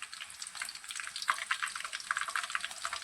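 Onions with garlic and cumin sizzle steadily in a hot pan, a continuous crackling fry with scattered sharper pops and stirring sounds, heard close up with no talking.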